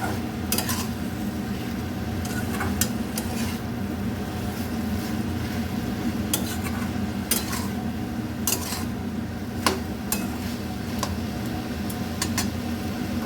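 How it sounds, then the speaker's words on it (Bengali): Shrimp and pumpkin-stalk curry with potatoes being stirred in a pan, a steady low cooking hiss with repeated clinks and scrapes of a utensil against the pan throughout. "আবারও একসঙ্গে ভালো করে নেড়ে নেব।"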